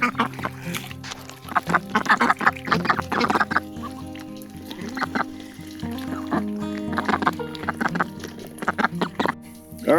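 Several Cayuga ducks quack noisily and close together in dense, overlapping bursts, with a short lull midway before the chattering picks up again.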